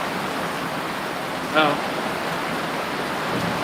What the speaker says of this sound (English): Still pretty intense rain.